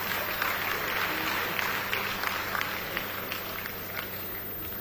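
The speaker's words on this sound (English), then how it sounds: "I want to clap for him." Audience applause for a state governor at a corporate event, a steady wash of many hands clapping at moderate distance, continuous and fairly even throughout, with faint crowd noise underneath.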